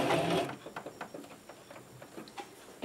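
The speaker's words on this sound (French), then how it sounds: "Et maintenant je vais faire des points arrière jusqu'au début." A sewing machine backstitches along a zipper in a series of short rapid stitching bursts, close and fairly quiet, with small mechanical ticks between them and nobody speaking.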